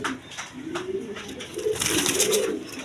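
Pigeons coo in low, rolling murmurs close by, with a few soft flutters and sharp clicks mixed in; no one is talking.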